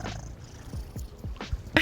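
A house cat purrs close by in short, soft pulsing bursts, with a few brief sharper sounds toward the end and no talking.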